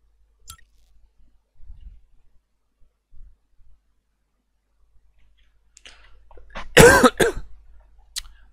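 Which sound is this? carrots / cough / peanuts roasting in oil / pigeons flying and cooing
cough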